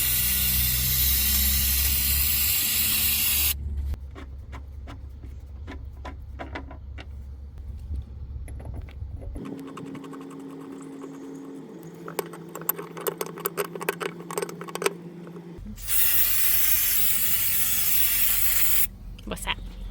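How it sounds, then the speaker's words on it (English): Brake cleaner sprayed from an aerosol can during work on a Franna crane boom, loud hissing bursts at the start and end with quieter clicks and metallic jangling in between, and people talking nearby. "What's that? Brake cleaner."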